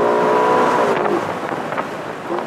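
A car engine roars loudly and close, its pitch rising and then easing off as it accelerates, with no talking.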